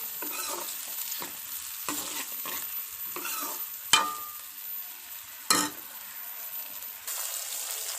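Onions frying in a pan for aloo chicken salan, cooked to a light golden brown, with an ongoing sizzle and repeated scraping strokes of stirring, plus two sharper clanks of the spoon against the pan. No one speaks.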